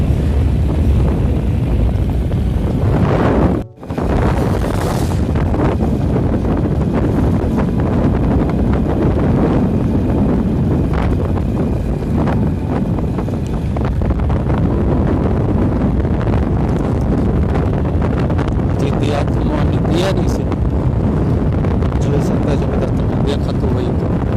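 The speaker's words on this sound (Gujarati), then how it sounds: "આની પર જોરદાર વરસાદ પડે છે હું જો અત્યારે ચાલુ ગાડીએ છું" Heavy monsoon rain heard from inside a moving vehicle, a steady loud roar of downpour and road rush with wind buffeting, briefly cut off by a short dropout.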